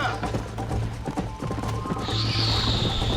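Horses gallop in the video game Red Dead Redemption, their hooves beating a fast, loud, rhythmic clip-clop close by. A brief whinny-like tone rises toward the end.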